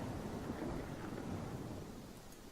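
Stormy weather effect in the video game Pathfinder: Kingmaker, with a low continuous rumble of thunder and rain held at a steady, fairly quiet level and no voices.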